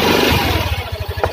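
A 2023 Yamaha Grand Filano hybrid 125cc scooter idling close by, a steady loud engine with a rapid even pulsing putter and light mechanical clatter, alone with no talk.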